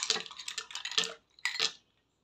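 Ice cubes and chopped watermelon stirred in a glass or jug for a chilled summer sharbat, giving brisk clinking and scraping taps in two short bursts, close and fairly loud, with no talking.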